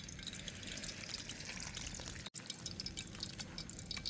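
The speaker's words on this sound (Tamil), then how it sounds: "கையால் தான் நல்லபடியாக கரைச்செடுக்க போகிறேன்." Chana dal bonda batter is mixed by hand as water is added, giving a steady, quiet wet squishing and trickling that runs throughout with no talk.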